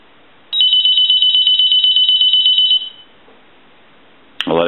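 The piezo ringer of an M&Ms Polyconcept animated phone, set to high, lets out one loud, piercing trill of fast pulses lasting a couple of seconds, followed by a pause and a brief clunk at the end.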